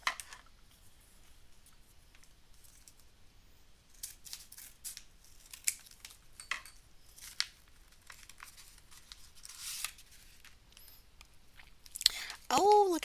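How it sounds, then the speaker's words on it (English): Scissors snip and cut through packaging tape in scattered short crisp clips and crinkles, close and fairly quiet, with a voice speaking briefly near the end. "This is going to call for some scissors."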